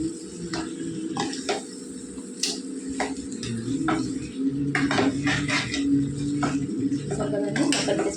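A spoon stirs fish pieces coated in masala inside a metal pot while making Telugu-style fish curry, giving light irregular scraping and clinks, close and moderately loud under a steady background hum.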